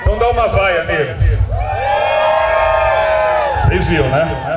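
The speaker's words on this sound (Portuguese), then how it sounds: "Então dá uma vaia neles." A crowd at a live event cries out together in sustained shouts and jeering calls, loud and close, with high voices mixed in and a few bursts of whooping.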